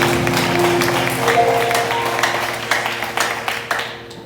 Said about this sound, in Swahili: Patia Bwana makofi mazuri.